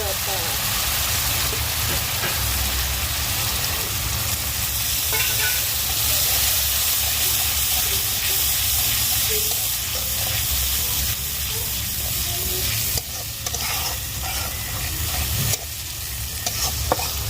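Ginger-cumin paste with ground spices frying in a pan, a steady loud sizzle and hiss running throughout with soft scraping of stirring layered on top.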